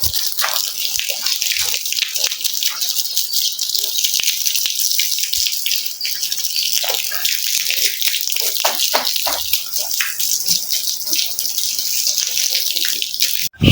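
Water splashes and pours steadily across a yard to cool the ground, a loud continuous hiss and gush close by with small spattering bursts throughout, alone.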